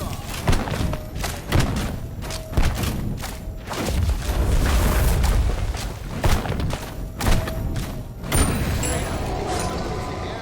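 Heavy thuds and booming impacts from a bomb blast in a competitive 1v1 ranked video game duel, a few strong hits repeating irregularly among busy game effects, with a voice talking over them.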